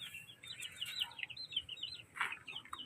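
Chicks and chickens, White Kelso fowl, clucking and chirping in a series of short, bright calls at moderate distance, with no voices.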